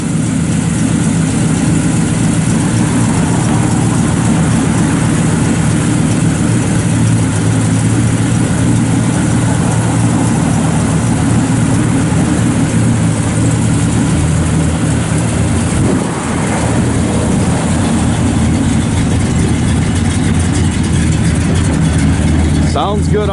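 A 1972 Chevrolet Chevelle Malibu SS with a cammed motor and a full dual exhaust idles close by, a loud, steady, deep rumble that holds throughout.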